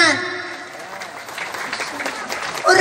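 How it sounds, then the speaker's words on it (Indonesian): Applause from the audience at a lively Islamic sermon, a steady broadband patter of clapping that holds throughout and swells at the end, with a voice speaking over it. "Tepuk tangan."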